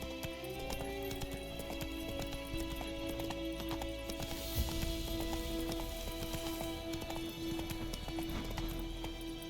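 Roach the horse trotting in The Witcher 3, a steady run of hoof clip-clops with a short whinny, set against continuous rainfall.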